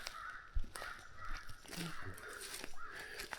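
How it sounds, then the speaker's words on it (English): Several crows caw outdoors in a series of harsh calls at mid distance, with faint background noise and rustling. "Listen to them crows."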